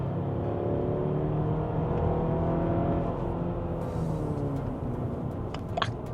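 A Hyundai Palisade with the 2.5 gasoline turbo engine accelerates on the road, its exhaust note rising as a steady, building drone heard from inside the cabin, with rhythmic tonal harmonics climbing smoothly and no one talking.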